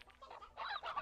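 A rooster clucks and crows in a stretch of Slime Rancher 2 game audio, a run of close, uneven bird calls with louder bursts toward the end.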